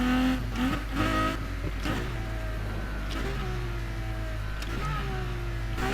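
Ferrari LaFerrari V12 engine in the racing game Need for Speed Heat, a steady loud drone with shifting pitch and a few rising revs, close and continuous.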